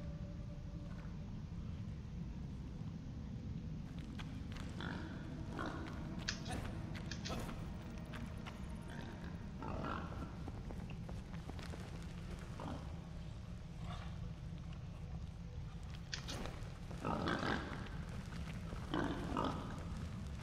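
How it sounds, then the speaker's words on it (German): Pigs grunt and snort in the video game Enshrouded during a cave passage, with scattered grunts and thuds over a steady low ambient rumble throughout. "Da sind zwei, drei Schweinchens."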